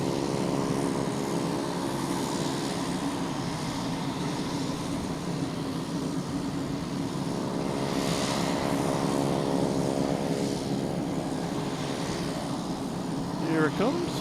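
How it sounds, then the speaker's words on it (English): JetBlue Airbus A320 taking off from runway 22 right at Boston Logan, a sustained broad jet roar with a humming engine tone, building slightly and staying continuous at a distance. "We have a JetBlue lined up on 22 right, heading to Fort Lauderdale."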